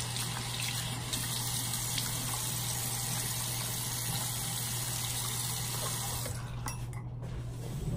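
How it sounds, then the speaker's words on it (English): Tap water runs steadily at a bathroom sink while a face is rinsed, a constant close splashing flow that stops abruptly near the end. "Let me rinse my face off."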